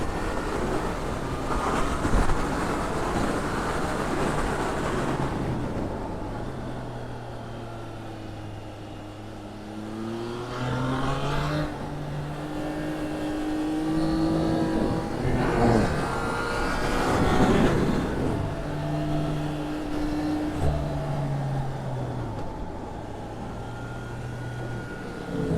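A Triumph Trident 660 A2 motorcycle engine revs up and down repeatedly, rising and falling in pitch over wind noise, close and fairly loud.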